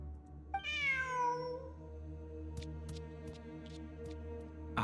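A cat in the Nikke video game gives one clear, close, rising-and-falling meow over soft background music, followed by faint clicks.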